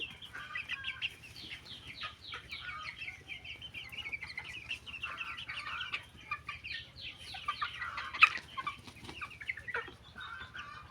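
Egyptian-breed and laying hens cluck steadily and chatter in a small fenced coop on a home farm, a dense flock sounding continuously up close with one sharper squawk standing out midway.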